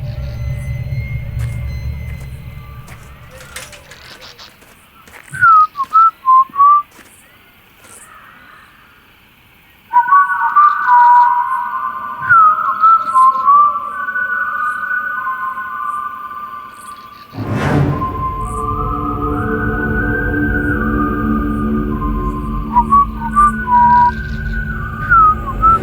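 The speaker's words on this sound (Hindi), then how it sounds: "सीटी कौन बजा रहा है?" Someone whistling in repeated drawn-out tones, alone in a quiet indoor space, broken by short chirpy bursts and a sudden thump before the steady whistling returns with a rumbling undertone.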